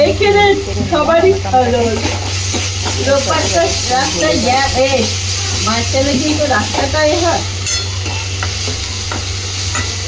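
Tomatoes fry in a pan for a garlic spinach sabji, giving a steady sizzle with occasional stirring scrapes throughout, while a voice talks over it.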